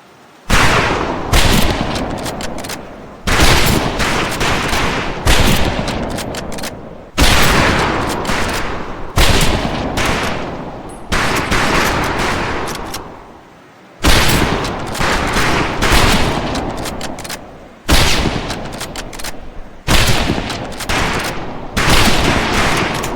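Rifle volley at a firing range in the Medal of Honor: Pacific Assault game, loud overlapping gunfire coming in repeated dense bursts, with short gaps between them.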